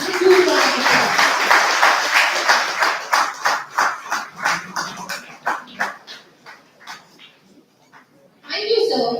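Conference audience at a materials science event applauds a chief guest, starting as a dense roar, thinning into rhythmic claps that fade to scattered ones, before a voice begins speaking.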